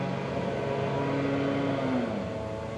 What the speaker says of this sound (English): sorry for the noise, neighbors are cutting the grass.